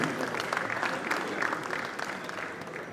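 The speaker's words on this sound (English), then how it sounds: "Can I have a round of applause for him, please?" Steady applause from a crowd at a political party general assembly, a dense continuous patter of clapping that holds throughout and eases slightly toward the end.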